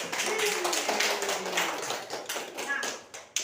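Students in a physics classroom clap their hands in a dense, continuous patter for several seconds. A voice is briefly audible underneath, and the clapping trails off into a few scattered final claps.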